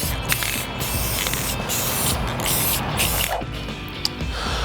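Aerosol spray paint hissing steadily as the underside of a prop lid is coated silver, a continuous close spray with brief pauses and a few small clicks of the can.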